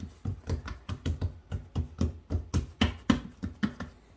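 Hands pressing and patting beignet dough flat, a close run of soft, rhythmic thumps about twice a second with no talking.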